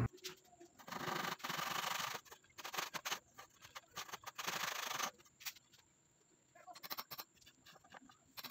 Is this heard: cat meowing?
no